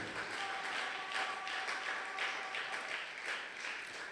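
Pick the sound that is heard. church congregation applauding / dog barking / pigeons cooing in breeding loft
church congregation applauding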